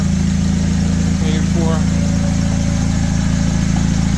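Honda K-series engine running on a FuelTech ECU idles steadily at about 820 rpm, a loud, constant close-up rumble with an even low pulse throughout.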